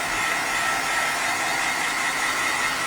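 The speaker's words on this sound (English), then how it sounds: "what I'm gonna do is use my heat gun to dry this a little bit" A heat gun blows steadily while drying ink on a handmade card, a constant loud hissing roar held close and unchanging from start to finish, with no talking.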